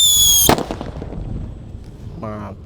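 A single sharp firecracker bang cuts through, followed by a crackling decay; a voice speaks briefly afterward.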